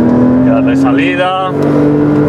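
A Porsche Cayman S with PDK gearbox accelerates hard around the Portimao circuit, its engine note rising steadily from inside the cabin while someone speaks over the loud, continuous drone.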